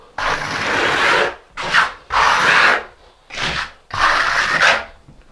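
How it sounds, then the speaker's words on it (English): A large steel finishing trowel scrapes across a wall being prepared for tile: five loud, close, rasping strokes of varying length separated by short pauses, with no talking. "I'm going to go over this right now, and I'm using this big finishing trowel to do this"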